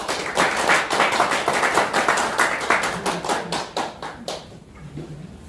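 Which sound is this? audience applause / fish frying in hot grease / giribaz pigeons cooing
audience applause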